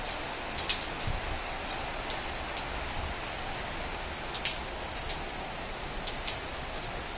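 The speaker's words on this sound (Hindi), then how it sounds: "तेज बारिश।" Steady heavy rain pouring down in Bhopal, India, a dense continuous hiss with scattered louder drops and drips on nearby surfaces.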